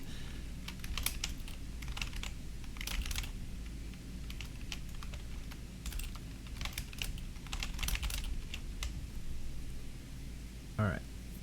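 Bursts of keystrokes clatter on a computer keyboard in uneven clusters with pauses between, close and fairly quiet, over a soft background hiss, with someone speaking at times.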